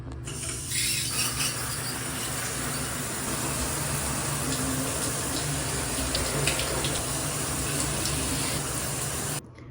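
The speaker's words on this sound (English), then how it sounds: "let me pop in the shower" Shower running at home in the evening, a steady hissing spray of water that holds unbroken for about nine seconds at moderate level, then stops, with no talking.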